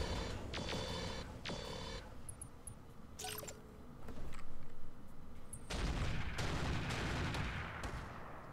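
Gunfire in the tactical shooter video game Roguepoint, a series of sharp shots and bursts scattered across the clip over a steady game background, some louder and closer than others, with no talking.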